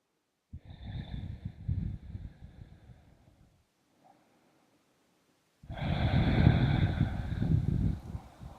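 Slow yoga breathing close to the mic: a long, audible breath through the nose, a pause of near silence, then another full, airy breath.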